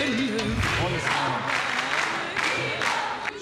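A television studio audience at a Turkish variety show applauds and cheers in loud, broad waves of clapping, with a voice singing or speaking over the crowd noise.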